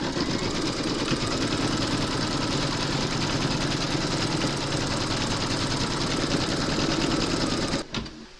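An embroidery sewing machine stitches a design in white thread, a loud, close, continuous rapid mechanical whir with a steady pulsing rhythm that cuts off abruptly near the end.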